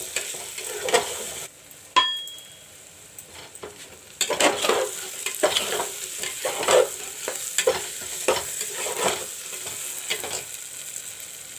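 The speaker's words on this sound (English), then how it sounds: "Fry the moong dal along with the tomato and onions." Moong dal frying with tomato and onions in a pan, a steady sizzle broken by repeated scraping stirs and a sharp utensil clink near the start, fairly close and with no talk.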